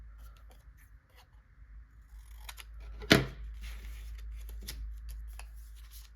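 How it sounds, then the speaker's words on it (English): Scissors slice through paper for a junk journal, a series of soft snips close by that build to one loud crisp cut, then continue quietly over a low background hum. "I'm gonna just cut it, make it a little bit smaller."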